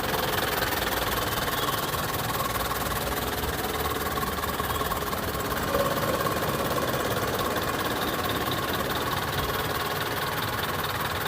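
The idling engine of an Eicher Pro 1055 pickup truck runs in a smooth, steady drone with fine mechanical clatter, heard from about five feet away, alone and unchanging.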